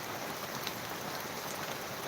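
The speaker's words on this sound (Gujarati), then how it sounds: "ધોધમાર વરસાદ" Heavy monsoon-style downpour pouring steadily in a village during the winter season, a dense, even hiss of rain close by with no voices.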